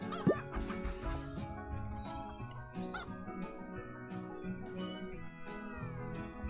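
Chickens in the farming video game Hay Day give soft, quiet clucks mixed with bright tonal game chimes and effects.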